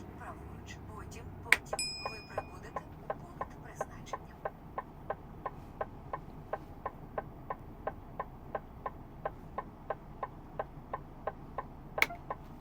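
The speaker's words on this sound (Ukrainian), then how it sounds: "мабуть, зупиняюсь тут на аварійці" The hazard warning lights of a parked truck tick at an even pace, about two clicks per second, close and steady for the whole stretch over a low idling hum, with a couple of sharper clunks.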